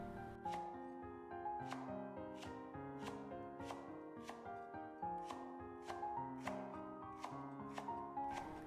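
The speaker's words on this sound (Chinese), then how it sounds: "给它切成斜刀片" A knife slices two scallions diagonally on a cutting board, about fifteen crisp, evenly spaced chops in a steady rhythm, close and clear with no talking.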